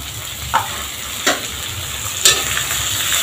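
Tomatoes sizzle in a hot pan, a steady close hiss and crackle broken by three sharper bursts as pieces land or are stirred, with no voices.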